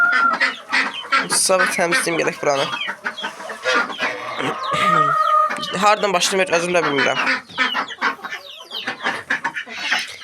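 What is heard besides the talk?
chickens clucking in a poultry yard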